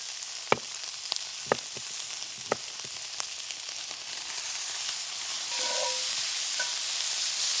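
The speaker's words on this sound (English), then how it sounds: "we're gonna take our pork belly, you throw it right in, and again, you can hear that sizzle" Steady sizzling and crackling of pork belly frying in a hot cast iron pan, with scattered sharp pops and clicks over a continuous hiss.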